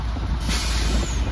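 Semi truck tractor coupling to a trailer: a loud, steady air-brake hiss with a broad rushing burst midway and low engine rumble underneath, heard close up.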